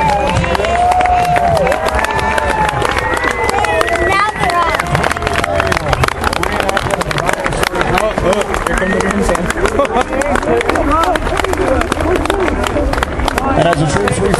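A large outdoor crowd at a War of 1812 reenactment claps and cheers loudly and continuously, with shouts and voices mixed into the roar.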